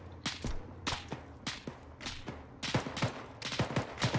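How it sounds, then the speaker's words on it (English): Rapid gunfire in a military shooter game, sharp broadband cracks arriving in irregular bursts and clusters, some single shots and some quick volleys, fairly close and loud with no talk over them. "Pete, we're taking fire."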